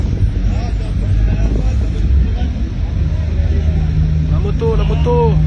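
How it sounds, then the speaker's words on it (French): A motorcycle passes amid a noisy street protest in Toulouse, its engine note rising out of steady crowd and wind noise toward the end, with people talking throughout. "La moto."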